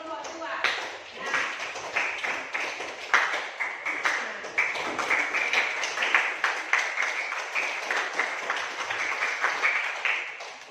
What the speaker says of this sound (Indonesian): Kita berikan tepuk tangan untuk kelompok 2.